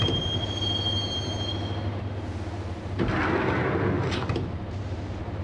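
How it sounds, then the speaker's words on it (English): A subway train rides in the Max Payne video game with a loud, steady rumble of wheels on rails, thumping joints and brief metallic screeches midway, alone with no talk. "the train doors had already shut behind me, and I was in for the ride"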